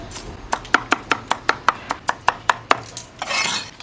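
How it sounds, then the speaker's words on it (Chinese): Garlic cloves being crushed with a knife on a board in a rural Xiangxi kitchen, about a dozen evenly spaced sharp thwacks close up, followed by a brief rustling scrape at the end. "大家都喜欢的蒜，给它压碎"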